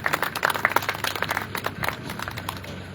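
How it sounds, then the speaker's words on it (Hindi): A seated audience at a village gram sabha gathering for a birth anniversary celebration claps together to welcome a guest, a busy patter of many hands that swells and then tapers, with a little talk mixed in. "जोर से ताली बजाइए"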